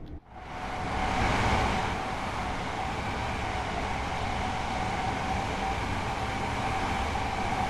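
A tilting passenger train in Train Sim World 4 on the Doncaster to Peterborough line runs at speed, giving a steady, loud rumble and wind roar that swells after the first second and then holds constant, with no talking.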